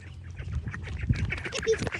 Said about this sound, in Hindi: यार बतख तो डर के भाग गया